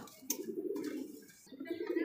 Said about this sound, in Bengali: এটা হচ্ছে গিরিবাস কবুতর